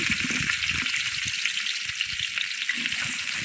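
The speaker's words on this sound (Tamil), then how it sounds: "ஆனியன் போட்டாச்சு. நல்லா ப்ரௌன் கலரில் வரணும், வதங்கணும்." Thinly sliced onions for biryani fry in hot oil. The sizzle is loud, steady and close, with soft stirring bumps beneath it and no voices.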